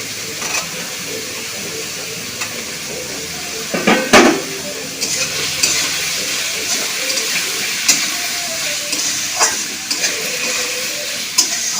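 Mixed vegetables with onion being stirred and fried in a pan, soft sizzling under repeated spatula scrapes and knocks against the pan, close and fairly quiet.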